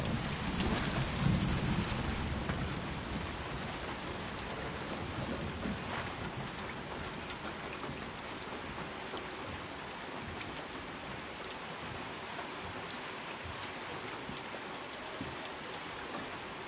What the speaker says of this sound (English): Cover of the storm should help us here.